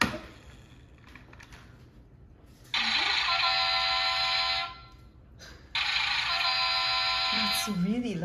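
A loud children's electronic toy blares two harsh, buzzing electronic bursts, each lasting about two seconds, over quiet room sound with faint voices nearby.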